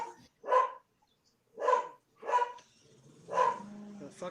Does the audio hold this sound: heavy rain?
no